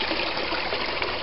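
Water trickles and gurgles steadily into a hole at the bottom of a small dead-end creek, a continuous broadband rush heard close and alone without voices.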